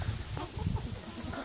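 Pheasants cluck in a breeding aviary for hunting pheasants, low soft clucks and fowl calls repeating close by against steady background hiss.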